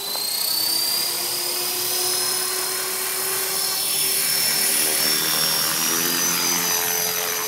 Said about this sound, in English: It's not too bad for a payload on a little electric helicopter